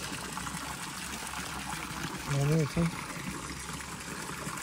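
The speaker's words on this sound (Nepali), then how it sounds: "अनौठै छ यहाँ बुटाबाट पानी आइरहेको" Water trickles steadily out of a bush at a temple site, a continuous hissing stream running throughout, with a short burst of nearby speech cutting in briefly midway.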